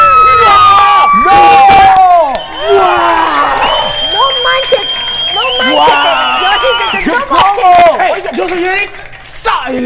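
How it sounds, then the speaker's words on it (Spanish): A magic show audience shouts, cheers and applauds in a loud, continuous crowd roar, with excited voices and bursts of clapping throughout. "Ay, los gritos, los aplausos, mira, el escándalo."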